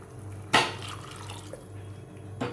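Hot water used to rinse a mixer jar is poured into a pan of onion-tomato paste for chana masala, with a sharp splash followed by a quieter trickle and a second splash near the end.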